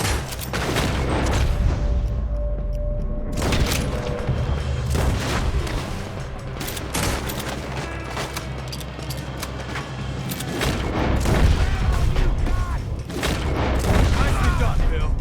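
Red Dead Redemption 2 shootout, with heavy booming gunshots and bursts of rapid fire at close range, repeated in clusters over a rumbling game soundscape.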